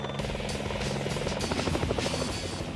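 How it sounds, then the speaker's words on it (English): Loud, steady military helicopter rotor thumping with a continuous engine drone, close and sustained throughout, as the helicopters land on a prison roof under gunfire during a night raid. "the choppers land on the prison roof through a hail of bullets"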